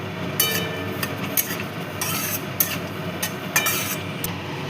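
Black cumin, dried chilli, bay leaf and whole garam masala fry in hot oil, giving a steady close sizzle broken by several short clinks and scrapes of a stirring utensil against the pan.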